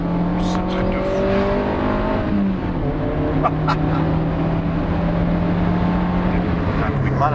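A Fiat Panda with a 100 hp engine and a modified exhaust line drives with a continuous, loud engine drone whose pitch rises and falls as it revs, heard up close inside or beside the moving car.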